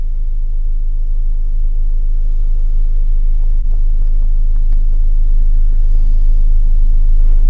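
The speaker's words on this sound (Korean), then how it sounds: "트렁크 쪽은 머플러에서 올라오는 소음이 가장 큰 것 같습니다" Inside the trunk area of a Kia Carnival minivan, a constant low droning rumble rises from the muffler and underbody, loud and steady throughout with no talking.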